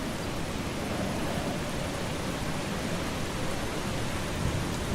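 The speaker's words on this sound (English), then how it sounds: "the storms here's gonna start in just a second. Gonna get a little bit loud maybe" Storm in the video game Eastshade: dense, loud, steady rain roar with low rumbling thunder underneath, constant and unbroken, no voices.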